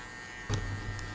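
An electric hair clipper buzzes during a barber's buzz cut, switching on partway through and holding a close, steady hum.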